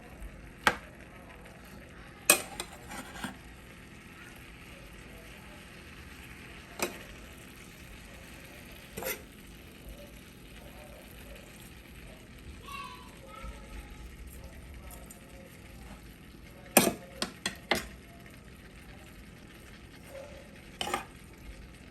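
A shrimp stir fry sits frying in a pan over medium heat, producing a faint, steady sizzle with occasional sharp clicks and scrapes of utensils, heard close and quietly.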